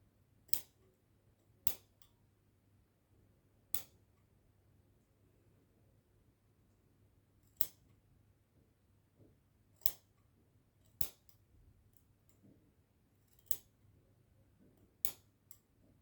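Sharp, isolated snips of poor scissors cutting a horse's mane, about a dozen crisp clicks at irregular intervals over a quiet background hum.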